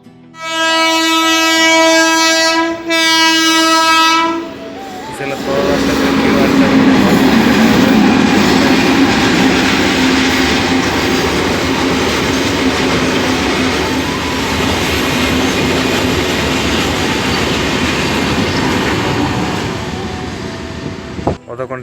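A train sounds its horn in loud sustained blasts, then passes a railway crossing in Purulia with a heavy, close, continuous rumble and clatter of wagons that fades slightly toward the end.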